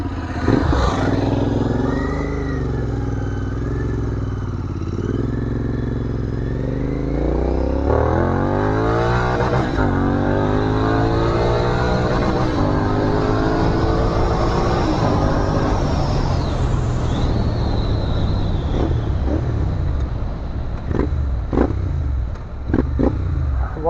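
A superbike engine on a Sunday ride, loud and close throughout, with a steady low drone giving way to a long rising rev around the middle and then easing off, with no talking.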